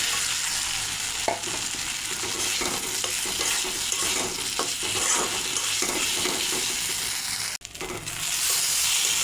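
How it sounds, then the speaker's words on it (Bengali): Fried potatoes get stirred into a cooked tomato-spice masala in a pan, giving a constant sizzling fry with repeated scraping and knocking of the spoon, moderately loud and steady, no one speaking. "এখন ভেজে রাখা আলু দিয়ে দেবো"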